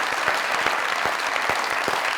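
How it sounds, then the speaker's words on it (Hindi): Loud, dense applause with a standing ovation fills a Mazaq Raat comedy show stage as Bushra Ansari and Iqbal Hussain make their entry, steady clapping throughout with scattered louder claps. "जोरदार तालियां"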